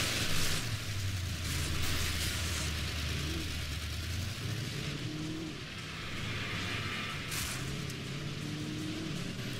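A car engine drones and revs steadily in the Alan Wake video game, a continuous mid-loud motor hum with shifting pitch that runs for nearly ten seconds with no talking.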